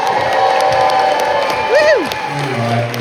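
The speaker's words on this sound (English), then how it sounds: "we have a round of applause for Craig" A convention crowd at a Red Dwarf cast panel applauding and cheering, a dense, steady wash of clapping and whoops with shouts rising over it, loud throughout.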